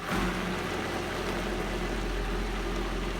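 Butternut squash soup whirring in a blender running at speed, a steady, dense, loud roar with a low motor hum that holds constant throughout, close by and with no voices.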